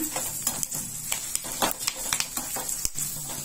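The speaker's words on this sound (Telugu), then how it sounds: "ఎండుమిరపకాయలు తగినన్ని, ఇంగువ వేస్తున్నాను. ఇందులో కరివేపాకు వేస్తున్నాను." Dried red chillies, asafoetida and curry leaves hit hot oil in a clay cooking pot, giving a steady close crackling sizzle broken by sharp spits and pops, with a few light clinks of a spoon against the pot.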